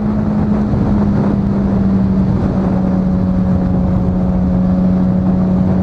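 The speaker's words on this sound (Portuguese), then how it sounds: "Vou fazer essa moto andar um pouco." A Suzuki GSX600 sport motorcycle engine gives a loud, close, steady drone held at high revs throughout, with a constant buzzing tone and no voices.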